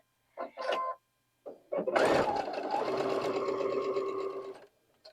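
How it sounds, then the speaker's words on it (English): A sewing machine sews a quarter-inch quilt seam in a continuous steady whir for a couple of seconds, after brief clicks and handling sounds; a voice speaks briefly before it starts. "let's go take all these pieces to the sewing machine"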